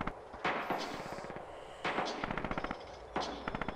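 Bursts of rapid machine-gun fire and gunshots from the World War II shooter Red Orchestra 2, several loud volleys with sharp repeated reports and pauses between them.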